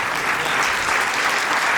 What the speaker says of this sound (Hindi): अगर सम्मान आपके मन में हो तो तालियां उठाना।